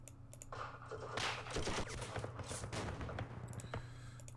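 Crackling bursts of small-arms fire in the war game Campaign Series Vietnam, rapid clustered shots rising after a quiet start and rattling on steadily, fairly faint in the mix.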